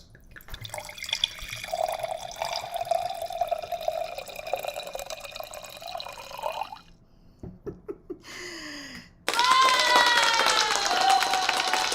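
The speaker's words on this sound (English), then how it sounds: "I'm going to go ahead and pour my wine glass here" Red wine poured into a wine glass, a steady liquid trickle that breaks into a few gurgles, then a louder, brighter splashing pour near the end.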